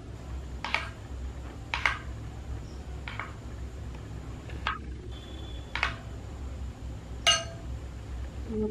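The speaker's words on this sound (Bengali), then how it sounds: "এটাকে আমি ব্যাটারে এরকম করে চুবিয়ে নেবো একটু চামচ দিয়ে" A metal spoon clinks against a bowl while a wooden skewer of snail meat for kathi kebab is dipped in batter, giving several sharp, separate taps spaced about a second apart over a low kitchen hum.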